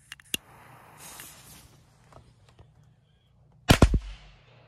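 Triple-shot Pirate firecracker going off outdoors: a sharp early crack, then a near, loud cluster of three quick bangs in rapid succession with a brief rumbling tail.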